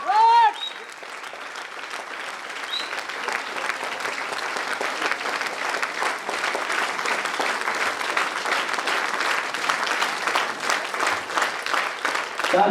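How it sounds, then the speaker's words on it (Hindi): Loud, sustained clapping from an audience at a celebration event in Mughalsarai, rising quickly after a brief voice at the start and carrying on as a thick, steady roar of applause. "गाना बजेगा ना बजे आपका तालियां रुकना नहीं चाहिए। जोरदार तालियां"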